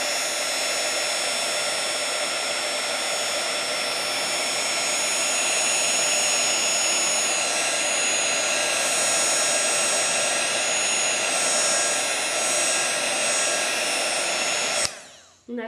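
Heat tool blows continuously as it melts embossing powder on a paper craft, a loud, steady, close whooshing roar that holds for about fifteen seconds before switching off abruptly.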